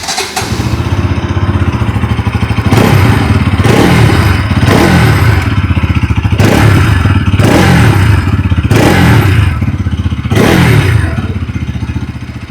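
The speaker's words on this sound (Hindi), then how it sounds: "सुन लेते हैं NS200 की एग्जॉस्ट नोट।" A 2026 Bajaj Pulsar NS200 motorcycle idles with a loud, close, throbbing exhaust, then is revved in about six sharp blips that rise and fall in a steady rhythm.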